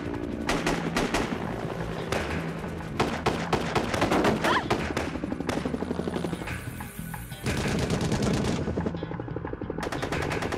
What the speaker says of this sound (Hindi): हेलीकॉप्टर पर गोलियां लगी है, इमरजेंसी लैंडिंग करनी पड़ेगी